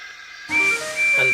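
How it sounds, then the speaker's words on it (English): A railway guard's whistle on a small branch-line train sounds two shrill, steady blasts, split by a short gap, after a quiet start, with faint hiss underneath. "The guard blew his whistle"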